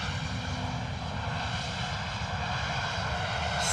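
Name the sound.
Ryanair airliner landing at London Luton Airport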